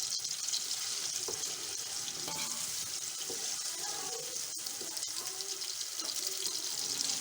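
Ginger sizzling in hot oil in a pan while cooking Delhi-style nalli nihari at home, a steady broadband hiss of frying that runs continuously at moderate loudness, with faint scattered clicks and no talk.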